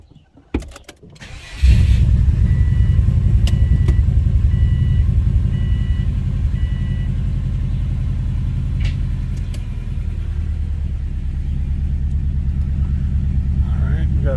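A Suzuki Bugeye with a newly replaced vehicle speed sensor starts up, then its engine settles into a steady close rumble with a few beeps early on, while someone talks over it.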